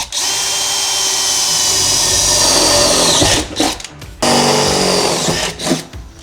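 Power drill with a 3/8 inch bit boring into the metal body of a RAM ProMaster work van, a loud close whine held for several seconds, a brief pause, then a second long burst before stopping.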